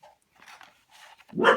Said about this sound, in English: Knew they'd bark at some point.